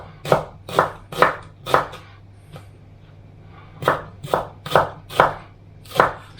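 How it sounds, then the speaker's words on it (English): A knife slices a large banana shallot lengthwise into long, thin slices on a board, close and clear: two runs of four or five quick, evenly spaced cuts separated by a short pause, with a low steady hum beneath. "So we're going to slice it"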